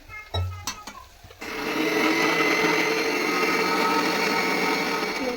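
A few clinks and handling sounds, then a mixer grinder grinding ginger, garlic and coriander with a little water starts and whirs loudly and steadily to the end, close by.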